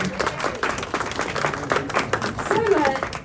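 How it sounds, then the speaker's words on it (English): Applause at a speedway press conference welcomes newcomer rider Chad Wertzfeld, a steady wash of clapping from a small crowd with voices murmuring underneath. "let's have a big round of applause for one of our newcomers this year, Chad Wertzfeld"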